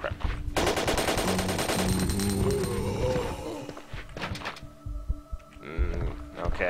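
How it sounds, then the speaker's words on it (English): In the Resident Evil game, a machine gun fires rapid bursts over the first few seconds, followed by scattered quieter thuds and game sounds, fairly close and loud. "I can't headshot anything with this machine gun."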